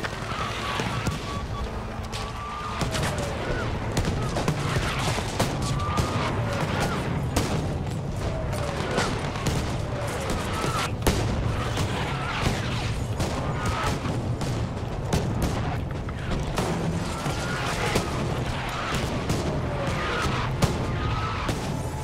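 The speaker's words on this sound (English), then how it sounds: "Look at that golden gun. Who's got the golden gun? Oh, look at that, you can fire it." Weapon fire from a golden gun in the shooter Battlefield 5, Rush mode, a dense ongoing barrage of shots and blasts under a constant low battle rumble throughout.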